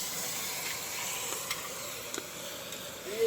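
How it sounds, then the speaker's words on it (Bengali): Chicken curry cooking in a pan with whole garlic, a soft, steady sizzle and hiss heard fairly quietly, with a few light clicks and stirring taps. "এখন মামি চিকেন রান্না করছে"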